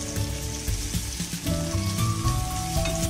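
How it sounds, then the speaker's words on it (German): Bratwursts and onions fry in a dry pan without fat, giving a steady, close sizzle with faint scraping stirs and small pops throughout. "Bratet ihr eure Bratwürste in einer Pfanne ohne Fett an und wartet, bis diese fertig sind."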